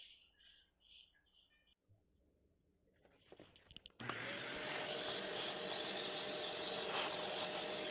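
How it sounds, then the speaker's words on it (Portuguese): A vacuum cleaner fitted with a flexible pipe nozzle sucks droppings out of a pet rat's cage; after a few soft knocks and rustles it starts abruptly into a loud, steady roar. "já aspirei ali o que tinha de cocôzinho"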